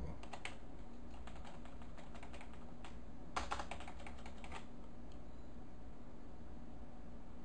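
Keys clack on a computer keyboard in a quick run of taps, then a short burst of several strokes, close by over a steady hiss, with no talking.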